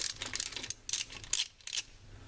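A 3/8-inch ratchet fitted with a 1/2-inch socket clicks in short, quiet bursts of rapid pawl ticks while removing a relay on a Ford 250, up close with no talking.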